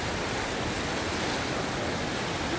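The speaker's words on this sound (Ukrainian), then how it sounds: "Поток річки тут теж неймовірний." Rushing river water flowing through the town of Lucerne, Switzerland, a dense, unbroken broadband roar that stays even and close throughout, with no voices over it.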